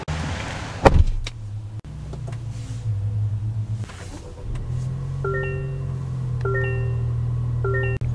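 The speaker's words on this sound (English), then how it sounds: "you can see this to open up the hatch" A 2024 Toyota Grand Highlander power liftgate opens: a thump near the start, then a steady low motor hum with repeated short electronic warning chimes near the end.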